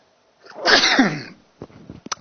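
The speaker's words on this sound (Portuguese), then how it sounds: "Que hora para espirrar, hein?" A single loud, close sneeze from a teacher in the middle of a Portuguese-language geography lesson, with a drawn-out breathy build and burst, then a few short sniffs and small noises after it.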